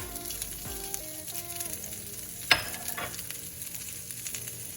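Spam and chopped egg fry together for fried saimin, a quiet steady sizzle with soft stirring scrapes and one sharper clatter midway.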